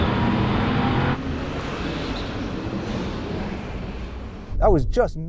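A car on Pirelli winter tyres launches across snow, a steady broadband road and drivetrain roar that drops slightly after a second, with a voice exclaiming near the end.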